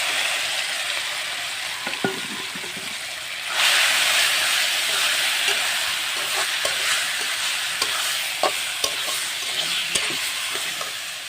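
Taro leaves hit a hot pan with a sudden rise in sizzling hiss, then fry steadily while a spatula scrapes and clicks in occasional stirring strokes.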